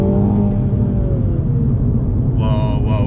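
A 2021 Mini Cooper JCW GP3 engine pulls hard under acceleration, a loud close rumble with rising whirring tones and a brief higher-pitched change near the end, heard from inside the car.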